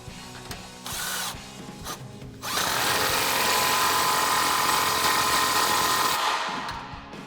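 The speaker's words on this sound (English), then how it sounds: "I'm going to take my 13mm on my 3/8 gun, tighten this clamp up while pushing up on it." A 3/8-inch air impact gun with a 13mm socket tightens an exhaust clamp under a 2011-2014 Mustang GT, a loud, close, sustained whirring burst of about four seconds after some short tool bursts and clatter.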